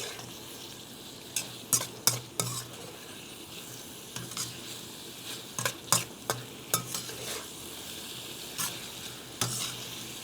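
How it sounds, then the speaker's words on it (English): Stir fry being cooked in a wok with a thickening slurry, a steady sizzle under repeated sharp scrapes and clacks of a utensil against the metal pan, close and fairly quiet, with no talking. "Crank it up a little bit, just to get the slurry so it'll thicken the stir fry."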